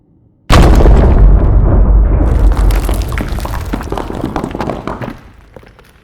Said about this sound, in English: A deafening explosion goes off,